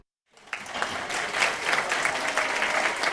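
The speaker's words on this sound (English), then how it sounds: "It's not common to hear applause like this in a committee room at the Capitol." Sustained applause from a crowd filling a state Capitol legislative committee room, starting abruptly after a brief silence and holding steady and dense throughout.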